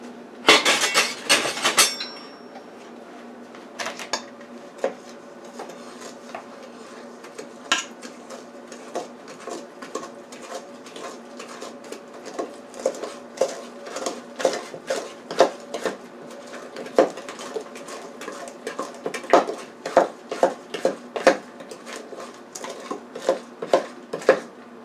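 Cornbread batter with a quarter cup of oil being mixed in a bowl by hand: a spoon clacks and scrapes against the bowl in quick, irregular strokes, close and alone, after a brief louder clatter at the start.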